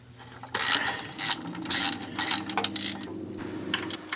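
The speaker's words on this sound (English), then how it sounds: "Now go ahead and remove the 9 bolts on the other side of the oil pan" A hand ratchet clicks in quick bursts while loosening oil pan bolts on a C3 Corvette, close and crisp, several rapid strokes of ratcheting pawl sounds over a low background hum.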